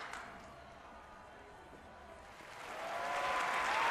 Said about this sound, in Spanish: Mira, un aplauso de Rodrigo